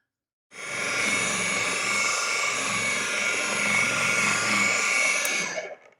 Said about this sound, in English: I'm gonna start doing the correction with this brand new Flex Polisher